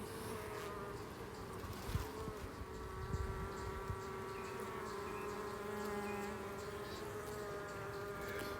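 A dense, steady hum of many honeybees buzzing close by inside a hive, with individual bees droning past in wavering tones and a couple of soft bumps.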